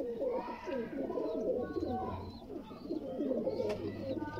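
A pair of Sialkoti red pearl pigeons coo steadily at close range, soft rolling throaty calls overlapping one another without pause.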